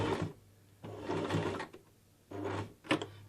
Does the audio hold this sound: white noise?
no